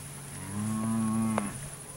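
A single drawn-out cow moo rises close by at a cattle ranch sale in Alabama, steady and fairly loud over a faint constant hum.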